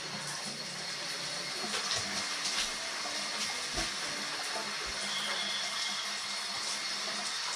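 Water runs steadily from a tap as a pet is bathed, a soft, continuous hiss close by with a few faint splashes and knocks, no voices.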